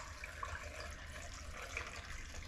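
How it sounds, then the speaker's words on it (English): Hot water poured into a stew pot of beef stock, meat and vegetables, giving a steady, continuous close-up splashing flow with no talk. "I'll top it up again just with hot water."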